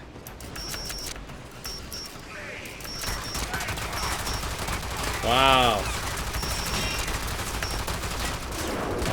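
Rapid automatic gunfire in the Warframe video game crackles in bursts across the clip, fairly close and sharp, with a short spoken exclamation partway through.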